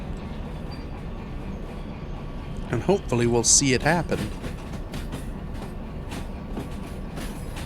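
Freight train rolling past in the Derail Valley railway simulator, a steady rumble with a burst of clanking and squealing midway while someone talks over it.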